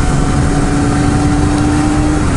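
A motorcycle engine drones steadily while riding, loud and close, with constant road and wind noise around it.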